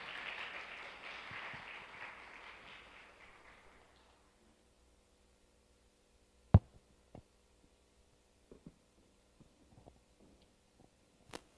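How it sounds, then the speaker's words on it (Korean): A church congregation at a Wednesday evening Holy Spirit service claps to welcome a returning guest speaker, a soft, distant patter of applause that fades out after about four seconds, leaving a quiet room with a few scattered knocks. "자주 뵙길 바라고 박수로 모시겠습니다"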